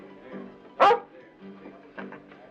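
A dog in a 1951 Western film gives a single short, loud bark near the middle, with quieter murmurs and faint sounds around it.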